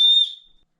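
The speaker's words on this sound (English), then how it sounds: "we got a whistle built into the end of the spork" One short, shrill whistle blast from a whistle built into the end of a spork, high-pitched and close, fading quickly into silence.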